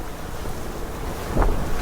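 Gusty apparent wind near 30 knots roars across a sailing yacht heading close-hauled toward Naxos in choppy water, a continuous rushing hiss that swells into a louder gust near the end.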